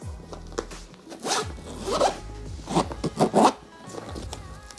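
A zipper on a Dior pouch from a perfume discovery set is pulled open in several short, rasping strokes, close and clear, with faint handling noises between them and no speech.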